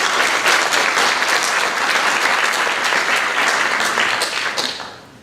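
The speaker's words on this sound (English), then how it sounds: "Can I get a round of applause for those folks" Loud, sustained applause from a lecture audience fills the space steadily for about five seconds before tapering off at the end, with no talking over it.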